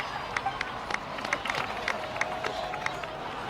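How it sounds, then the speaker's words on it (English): Steady background crowd noise with scattered claps and cheers, moderately loud, with faint voices mixed underneath, from the video game Genshin Impact. "please give another round of applause for them"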